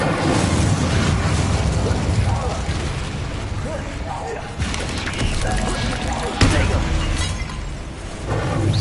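In the video game Hogwarts Legacy, Bombarda explosion spells burst amid a dense, loud battle mix of booms, shattering debris and clattering effects. Several sharper blasts punch through the continuous din.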